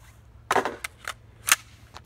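A rifle fitted with a Franklin Armory BFS3 binary trigger fires several loud, sharp shots in quick uneven pairs and singles, each crack standing out clearly against a quiet background.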